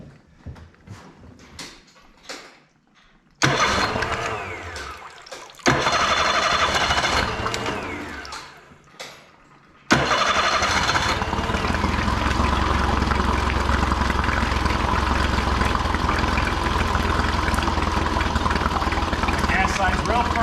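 Honda 40 hp four-stroke outboard engine on a pontoon boat cranking to life and settling into a steady, loud idle, with a person talking briefly before it catches.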